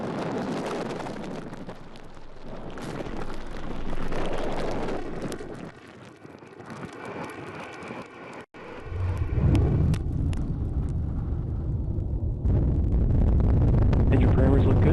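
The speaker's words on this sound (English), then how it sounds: "liftoff of United Launch Alliance SF-87 for the United States Space Force" United Launch Alliance rocket lifting off on the SF-87 mission for the United States Space Force, a loud, sustained broadband roar that surges and crackles as the launch builds, with a voice talking over it.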